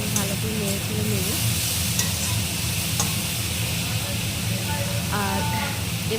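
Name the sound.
stir-frying cabbage with green chillies in a pan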